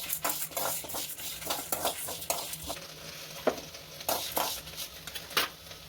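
Lentils, black pepper and dried red chillies dry-roast in a kadai, rattling and scraping in irregular bursts as a spoon stirs them, over a faint sizzle. Nobody speaks.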